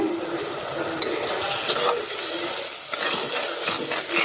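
Village-style chepalakura fish curry with turmeric being stirred in a pan, a steady scraping and bubbling simmer running without pause, close and fairly loud, with a few clinks of the spoon.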